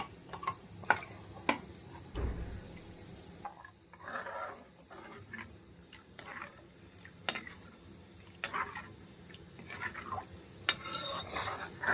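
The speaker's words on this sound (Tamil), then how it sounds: "இப்போ ரெண்டுத்தையும் நல்லா கொதிக்க விடலாம்." A pan of egg curry bubbles and sizzles steadily, with occasional sharp ticks and clinks of utensils against the pan; no talking.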